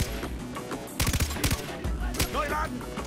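Gunfire in the video game Far Cry 3: a cluster of sharp, loud shots around the middle, with scattered game noise and faint background sounds around them.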